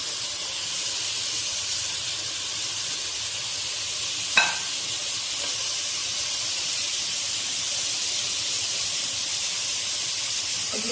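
Hilsa fish head frying in a pan with chili, turmeric and cumin powder and salt, giving a steady, even sizzling hiss throughout, broken once by a single brief knock of a stirring utensil against the pan.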